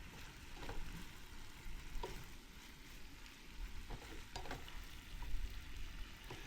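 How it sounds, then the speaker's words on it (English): Shrimp and vegetables sauteing in a pan at a summer forest campsite, a faint, steady sizzle with occasional soft stirring scrapes and clicks. "Those shrimp really cook fast. Saute them 3 minutes or something."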